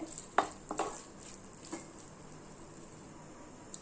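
Mushroom masala stirred in a pan with curry leaves and coriander, a few sharp spoon clinks and scrapes against the metal over a faint sizzle, close and sparse, no voices.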